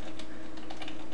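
Rapid keystrokes clatter on a computer keyboard close to the microphone in a short, steady burst over a constant low hum.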